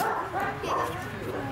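Several dogs bark and yip at an outdoor church Blessing of the Animals service, sharp overlapping barks close by mixed with whimpers, while people talk nearby.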